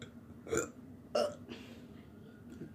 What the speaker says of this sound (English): Burp. Excuse me.